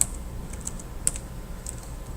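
A few separate key presses tap on a computer keyboard, sharp isolated clicks spaced unevenly over a quiet room hum, with no talking.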